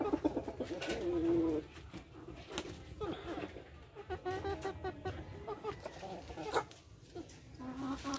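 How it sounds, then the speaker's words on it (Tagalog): Chickens clucking and calling at close range, with a bird's sustained call early on and scattered clucks and coos throughout, while other farmyard birds and background noise continue. "Tumitilawak yung mga manok."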